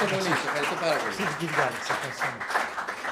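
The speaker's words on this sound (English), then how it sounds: "Big round of applause for our speaker." Seminar audience applauding their speaker, a dense, steady round of clapping filling the room, with a voice speaking over it.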